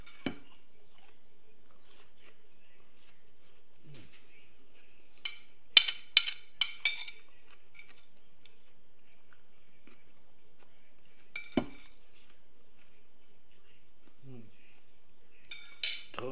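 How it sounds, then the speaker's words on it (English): A spoon clinking against a dish during a meal, with sparse, sharp metallic taps and small clusters of clinks in a quiet room, some faint mouth sounds between them, and no clear talking. "I'm eating it with a spoon because I slice everything up real fine"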